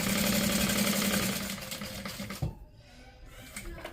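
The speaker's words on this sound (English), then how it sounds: "I'm going to top stitch across the zipper." A sewing machine topstitches across a zipper on a crossbody bag in a rapid, steady stitching rhythm, then stops abruptly, leaving a few soft clicks and quiet handling.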